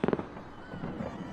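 Fireworks bursting over a city, a quick cluster of sharp cracks at the start followed by a rumbling, echoing wash that fades out, fairly distant.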